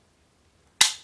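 Trigger break of an IWI Jericho 941 polymer pistol: a single sharp, close click after silence, with a brief fading tail.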